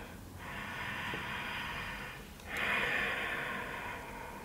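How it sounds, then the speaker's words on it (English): Heavy, steady breaths drawn in and pushed out through the nose during a gentle yoga pose, two long breaths filling the quiet room with no speech. "Breathing here."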